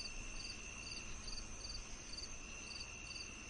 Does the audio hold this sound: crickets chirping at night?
yes